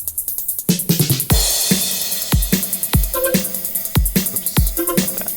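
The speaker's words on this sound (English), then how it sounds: "So all of the drums together sound like this." Full drum track from an electronic music production: punchy kicks, snares and hi-hats in a steady driving pattern, loud and close, playing alone.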